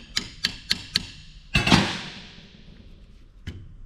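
A differential pin is tapped into place with several sharp, evenly spaced metallic taps, a brief heavier clattering knock, then quiet before one last tap near the end.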